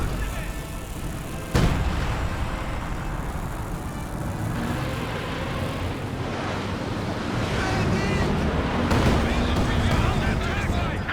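A Bunker Buster artillery strike in the strategy game Company of Heroes 2: a sharp impact blast followed by a long rumbling roar of debris and battle noise, with another heavy burst near the end.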